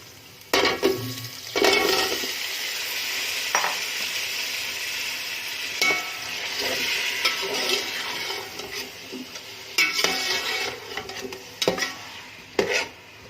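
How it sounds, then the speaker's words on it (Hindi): Onions, potatoes and peas frying in a pan, a continuous sizzle broken by repeated scraping, clattering stirs against the metal, close and fairly loud. "अब इसे अच्छी तरीके से फ्राई करेंगे, तो आलू और मटर दोनों फ्राई हो जाए"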